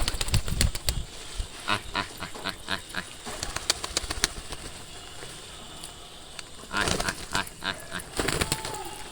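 Village pigeons moving about close by, with bursts of wing flapping and rustling, the loudest flurries near the start and toward the end, while faint speech can be heard in the background.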